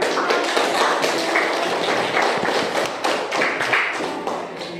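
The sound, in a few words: children clapping for group 1 in class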